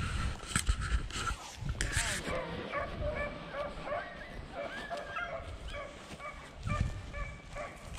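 Beagles yipping, whimpering and baying together during a rabbit hunt outdoors, a busy overlapping chorus of near and farther dogs with some rustling in the brush.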